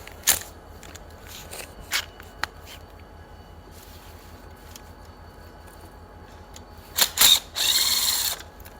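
A ratchet works foot peg bolts loose on a Yamaha Banshee ATV, giving a few short clicking bursts followed by a longer quick ratcheting run near the end, close and fairly quiet with no speech.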